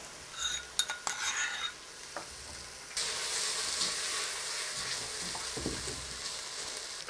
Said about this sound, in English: Then we add our ginger and garlic to the mixture.